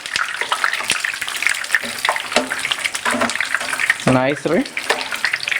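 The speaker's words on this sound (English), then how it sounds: "now dip it slowly and deep fry, and then you turn your fish" Beer-battered fish deep-fries in hot oil with a continuous bubbling sizzle, while a person talks over it.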